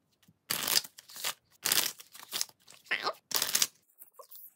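A deck of playing cards is riffle-shuffled repeatedly, giving four or five crisp bursts of ruffling with short pauses between, close and fairly quiet.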